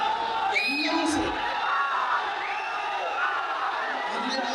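A crowd at the Vamana film trailer launch event cheers and whoops continuously, with yells rising out of a dense, steady roar of voices.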